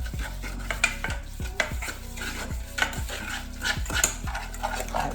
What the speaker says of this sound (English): And we need to mix this up.